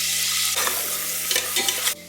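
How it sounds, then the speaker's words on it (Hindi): Cumin seeds crackle and hiss in hot ghee, giving a loud, steady close-up sizzle broken by a few brief dips as the pan is stirred. "घी गरम हो गया है, मैं क्यूमिन सीड ऐड कर दिया है"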